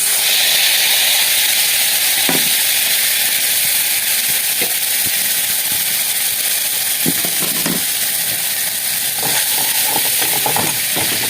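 Green chillies and tomato fry in hot oil, giving a loud, steady sizzle and hiss with occasional stirring clatter and no talking.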